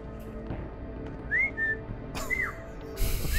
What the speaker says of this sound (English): Lean up against it and then you whistle.